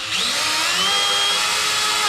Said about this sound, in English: now the exhaust is free, so I can get my drill in here